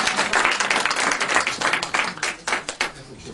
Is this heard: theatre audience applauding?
yes